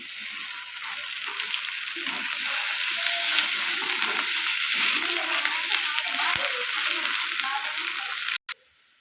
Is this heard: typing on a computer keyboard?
no